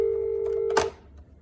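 A hotel suite telephone is tested, with a steady dial tone sounding close and clear, then cut off by a sharp click as the handset is put down, leaving quiet room tone.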